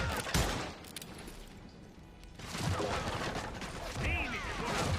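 Rapid bursts of gunfire rattle in the Western shooter Call of Juarez: Gunslinger, with dense volleys and ricochet whines around a brief lull, under a narrating voice.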